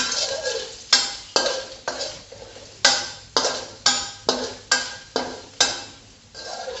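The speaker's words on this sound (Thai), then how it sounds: "ใส่กระเทียมนะคะ กระเทียมที่เรา ตำเมื่อกี้นะคะตำพอแตกๆนะคะ ผัดให้หอมก่อนนะคะ" Crushed garlic stir-fried in a hot pan, with a utensil scraping and tapping against the pan in a steady rhythm of about a dozen sharp strokes over a soft sizzle.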